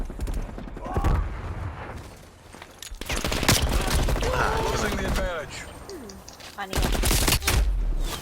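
Bursts of rapid gunfire with sharp cracks and mechanical clatter in a multiplayer shooter match, layered over busy game effects and excited voices talking throughout.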